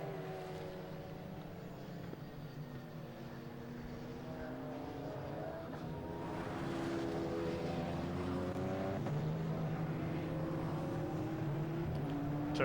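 Race cars circulate under safety-car conditions during a Britcar Endurance Championship race at Oulton Park, a steady engine drone that builds and grows louder midway, with shifting pitched whine throughout.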